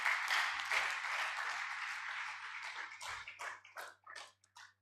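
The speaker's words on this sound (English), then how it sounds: "Please, round of applause for him." Audience applause at a medical college's annual symposium and journal launch, a quiet, somewhat distant patter of clapping that thins out into scattered individual claps before stopping, over a low steady hum.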